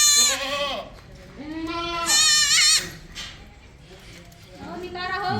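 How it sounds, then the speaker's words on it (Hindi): Makki Cheena goats bleat repeatedly on a goat farm, several loud, close, wavering cries following one another with short pauses, some overlapping, with no talk. "ये बकरियाँ हैं देखिए, ये देखो मक्की चीना बकरी"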